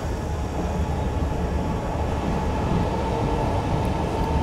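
Steady rumble of a passenger train pulling through Kalkalighat station on the Agartala to Silchar line, a continuous close, even roar of wheels and carriages without pauses.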